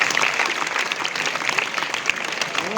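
Steady, dense applause fills a school award ceremony as an audience claps continuously with no break in the sound.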